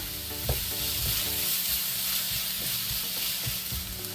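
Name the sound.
sautéing and stirring in a pan for Kerala egg roast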